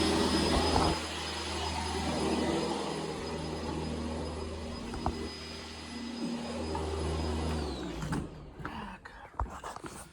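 A Sanitaire SC679J upright vacuum cleaner runs steadily on upstairs carpet with a loud, high-pitched motor whine and hum, then shuts off and winds down near the end, followed by a few scattered clunks and handling noises.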